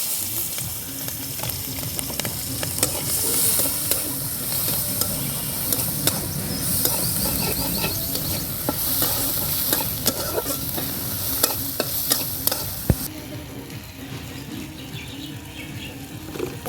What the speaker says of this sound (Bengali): আর এই যে পেঁয়াজটা দিয়ে দিলাম তেলে